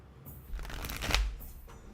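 A deck of tarot cards is shuffled close by in one short, soft riffling burst that swells and then fades, with no voices.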